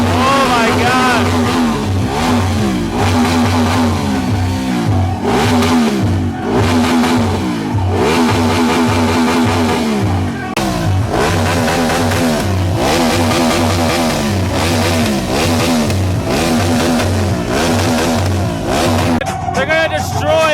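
Motorcycle engine revved hard and loud in repeated surges and drops on a street in India, a harsh throttle-blipping roar that runs nearly nonstop.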